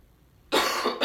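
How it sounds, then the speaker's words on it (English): A single sharp cough close to the microphone, followed by a quick second cough after a brief pause. "a little bit of a cough here"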